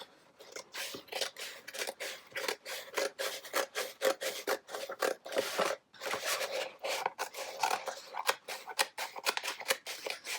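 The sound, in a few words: scissors trimming stencil vinyl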